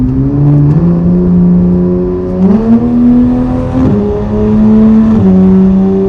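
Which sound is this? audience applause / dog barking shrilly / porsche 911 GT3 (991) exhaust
porsche 911 GT3 (991) exhaust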